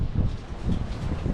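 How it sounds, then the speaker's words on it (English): Wind blowing outdoors on a gusty day, rumbling and buffeting close against the microphone in a steady low roar. "it's a windy day and the wind is blowing."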